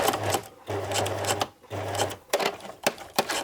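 A sewing machine stitching a small handbag runs in several short bursts with brief pauses, its rapid mechanical whirring close and clear, with no talk over it.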